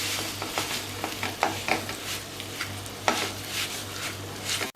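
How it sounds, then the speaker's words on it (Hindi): Dates and cardamom powder being stirred into poppy seeds in a pan, giving a steady soft scraping and light sizzle with a few sharper utensil taps against the pan, close and moderately loud, with no talking. "खसखस के बाद खजूर डाल के हमने इसको थोड़ा चला लिया और इलायची पाउडर भी मिला दिया था।"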